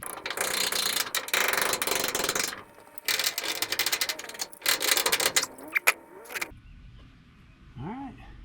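Ratcheting jacks raising a pole barn roof, with dense rapid mechanical clicking and clattering in long bursts broken by short pauses, close and fairly loud, ending in quieter scraping.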